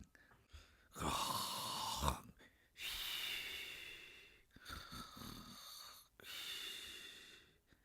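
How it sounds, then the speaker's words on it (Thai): A ferret character in a Thai children's audio story snores loudly, with four long, raspy snores in a slow rhythm, each separated by a short quiet breath. "แล้วก็กรนเสียงดัง"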